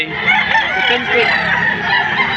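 A rooster crows at a chicken market in Padre Garcia, Batangas, a close, drawn-out call over faint background chatter and clucking.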